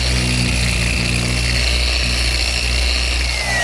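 Power sander rounding the corners of walnut table leaves in a woodworking shop, a loud, steady motor whine with grinding abrasive noise that runs without a break and has no talk over it.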